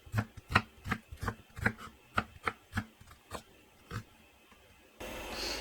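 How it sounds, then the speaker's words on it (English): Knife chopping half a sweet onion on a cutting board: a run of about a dozen crisp, close taps at an uneven steady pace, fading to a hiss at the end. "Then I'm going to cut up. This is a smaller one, but I'm going to use about a half of a sweet onion."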